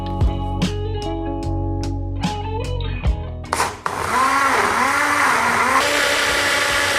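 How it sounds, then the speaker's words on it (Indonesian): A kitchen blender whirring ingredients with water, its motor starting in pulses with sharp clatters, then settling into a loud, continuous churning whine with wavering pitch. "Kita akan blender dengan air dan nanti kita akan saring."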